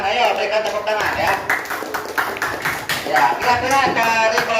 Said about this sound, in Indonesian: Ayo, berikan tepuk tangan ya.